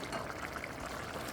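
Rice with vegetables simmers in a covered pot over low heat, giving a soft, continuous bubbling and hiss, faint and close with no talking.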